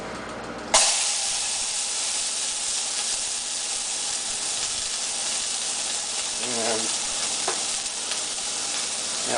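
Thick hamburger patties sizzle in a frying pan with a loud, continuous crackling hiss that starts abruptly and holds steady, with a few soft clinks over it.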